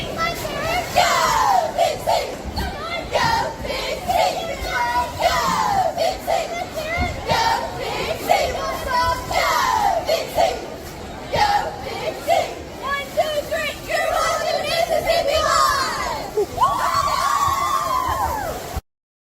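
Corinth high school cheer squad chanting and shouting together, loud rhythmic crowd voices and yells sustained throughout, energetic and close.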